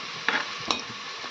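Chopped onion fries in a pan with chili powder just added, giving a soft, steady sizzle broken by two brief scrapes of a spoon stirring, close and quiet with no voices.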